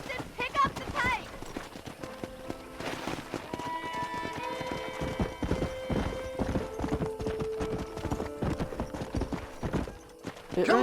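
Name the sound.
horse galloping in Red Dead Redemption video game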